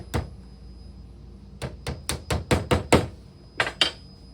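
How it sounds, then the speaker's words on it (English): Small square wooden pegs hammered onto a wooden puzzle piece: one sharp tap, a pause, then a quick run of six close, fairly loud knocks followed by two more, with no talking. "Just hammer them right onto that little piece right there"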